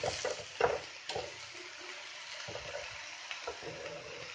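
Green leafy vegetables stir-frying in a pan in a home kitchen, a steady close sizzle with soft crackles and a few louder spatters and scraping stirs, no talking.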